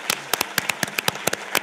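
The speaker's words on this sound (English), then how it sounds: "So let's give them a big hand." A thin, scattered round of applause at an anthropology conference plenary: about a dozen sharp, separate handclaps at an uneven pace, nearby and fairly loud.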